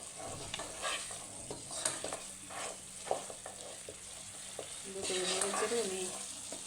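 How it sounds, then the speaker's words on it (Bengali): Haleem spice mix being stirred in a pan of cooking meat, with a soft scraping and a steady sizzle of frying throughout, the sizzle swelling louder near the end. "এটা এখন একটু নেড়ে চেড়ে"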